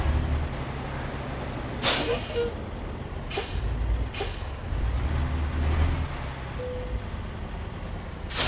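A Kenworth semi truck in American Truck Simulator idles with a steady low rumble, and sharp bursts of air-brake hiss release at intervals, three of them loud and clear.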